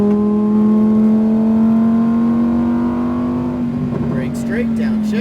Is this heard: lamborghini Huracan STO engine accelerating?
yes